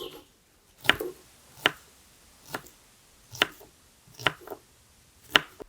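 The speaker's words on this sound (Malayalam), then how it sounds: "അപ്പോൾ നമുക്ക് തൊലി കളഞ്ഞിട്ട് ചെറുതായിട്ട് അരിഞ്ഞെടുക്കാം." Peeled small onions being chopped finely with a knife, six or seven sharp, separate knife strikes spaced about a second apart on a board, close and clear with quiet gaps between.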